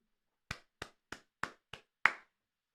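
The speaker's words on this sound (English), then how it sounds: "Give him some claps." Six sharp hand claps ring out alone against silence, evenly spaced at first, with a short pause before a final, louder clap.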